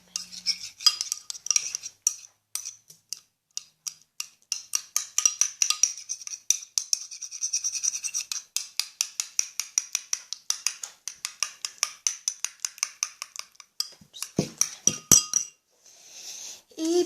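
A utensil stirring a mixture in a bowl, rapid clinking taps against the bowl in an irregular rhythm, close and fairly loud, with a short pause near the end and no talk.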